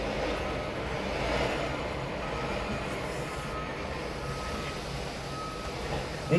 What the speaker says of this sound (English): I think it's a garbage truck, I'm not sure.